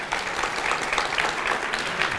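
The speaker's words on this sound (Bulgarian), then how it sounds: "Аплодисменти!" Conference audience applause at the opening of a QA testing event, dense clapping from a crowd with slight rises and falls, sustained and moderately loud without speech.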